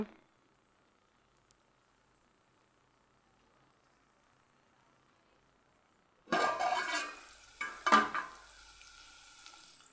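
Curry cooking in a pan on a home stove: near silence for six seconds, then two loud bursts of sizzling and frying, the second followed by a fading hiss.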